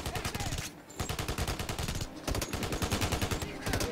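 Rapid bursts of video game gunfire from Kinect Adventures ring out loud and dense, with short pauses between volleys, and a voice is faintly audible underneath.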